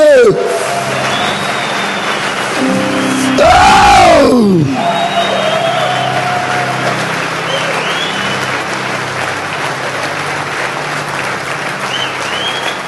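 A church congregation applauds loudly and cheers over a steady crowd hum and ongoing talk, with a brief louder burst of clapping and whoops near the middle.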